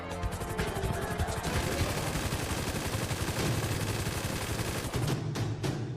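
Rapid automatic gunfire from a Free Fire-style video game rattles in dense, continuous bursts, loud and sustained throughout, with a brief gap before a final few shots.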